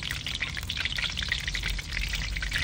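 Curry leaves sizzle in hot oil for an okra fry, a dense, close crackle of popping and spitting that goes on steadily without pause, with no talking over it.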